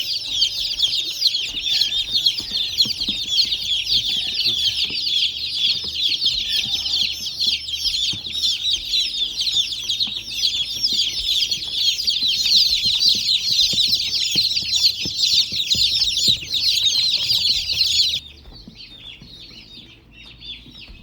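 Many chicks peep and chirp nonstop in a dense, high-pitched chorus close by, with occasional clucks, before abruptly dropping to fainter chirps.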